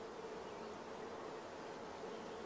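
Steady, dense buzzing of a honeybee colony inside a hive, with nurse bees tending queen-rearing grafts, a continuous even hum throughout with no talking.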